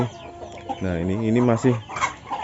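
Chickens clucking in a hen yard, a mother hen still tending her grown chicks while someone speaks Indonesian over the clucks.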